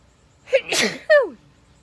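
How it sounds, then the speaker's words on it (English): A single loud sneeze up close, with a sharp intake and a burst of breathy noise, then quiet. "I'm gonna sneeze."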